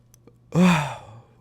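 A person yawns once, close up: a single drawn-out, breathy exhale that swells and then fades over about half a second.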